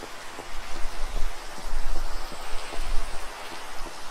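Rain falls in Minecraft with Complementary Reimagined shaders, a continuous wash of hissing rainfall with soft low rumbling swells that rise and fall throughout, fairly loud and alone.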